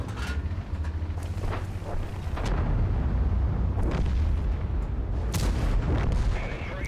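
Heavy cannon fire from an FV215b tank in World of Tanks booms in a few loud blasts over a constant low engine rumble, with sharp reports near 2.5 and 5.3 seconds.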